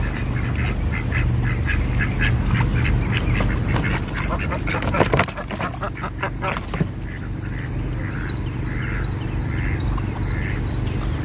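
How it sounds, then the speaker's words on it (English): Ducks quack repeatedly in a busy, rhythmic chatter against a steady outdoor rumble on a farm with chickens, with a burst of clattering noise midway and faint voices. "You can see the chickens and the ducks."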